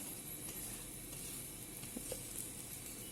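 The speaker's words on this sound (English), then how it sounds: "I am toasting on one side, after which I check and flip on the other side." Gobi paratha toasting in ghee on a griddle, a soft, steady low sizzle with a faint hiss, quiet and continuous, no voices.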